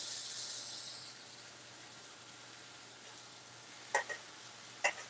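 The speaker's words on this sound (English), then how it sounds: "That's frying just right." Pork chop and homemade fries frying in hot grease give a steady, soft hiss that fades slightly after the first second, with a few brief louder crackles near the end, no talking.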